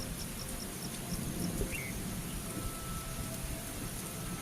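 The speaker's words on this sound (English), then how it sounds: "The rain transforms the landscape into a lush green cover." Steady rain falls over a sanctuary landscape as a continuous soft wash of noise, with faint insect chirps and a distant low rumble beneath.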